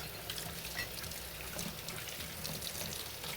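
Hands are washed under running water, a steady close hiss and splash of flowing water, continuous and fairly quiet across the whole stretch with no talking.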